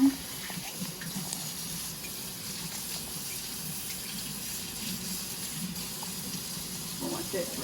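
Water runs steadily from a tap into a sink as a small florist's vase is rinsed, a continuous close gush with faint splashes throughout and no talking over it.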